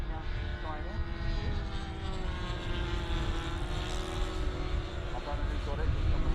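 Model aircraft buzzing overhead during a ribbon-cutting contest at an airshow: a sustained droning engine whine with shifting pitch, fairly loud and steady, with people talking over it.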